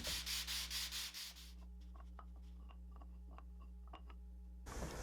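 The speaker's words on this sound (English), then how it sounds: "I had to settle for taping a piece of sandpaper down to my table saw top" Wood pieces for an edge grain cutting board rubbed across sandpaper taped to a table saw top, a rhythmic rasping sanding stroke that fades into quiet ticks and faint hum before a brief rough scrape at the end.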